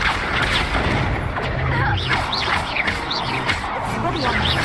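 Incendio fire spells cast in Hogwarts Legacy, a string of bursting, crackling blasts with booming low thuds over a dense battle din, while a voice shouts spell names throughout.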